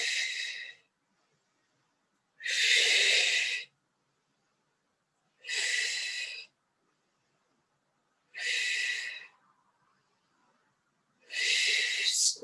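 Slow, deep breaths during a Pilates glute bridge exercise come as five long, close breathy swells. Each one lasts about a second and is separated by silence.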